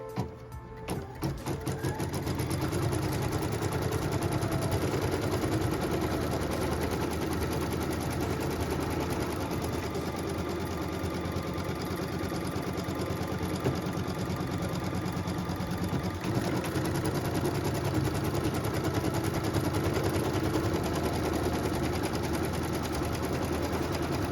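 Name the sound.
embroidery machine stitching quilt block, tacking down batting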